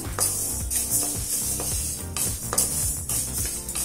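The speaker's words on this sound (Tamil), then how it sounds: "கருப்பு உளுந்த நல்ல கலர் மாறுற வரைக்கும் வறுத்துக்கலாங்க" Split black urad dal roasting in a pan for idli podi, with scraping, rattling stirs of the dry lentils against the metal under a faint sizzle, heard alone and close.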